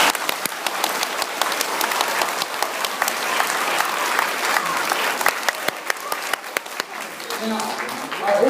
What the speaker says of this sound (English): I think he deserves a big round of applause for that.